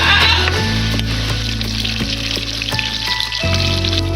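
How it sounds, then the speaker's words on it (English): Pork chunks browning in hot oil in a pan give off a dense, loud, continuous sizzle and crackle, close up, with a few knocks as the pieces are turned. No one speaks. "Once oil replaces the juice, turn the pork on all its sides to brown them"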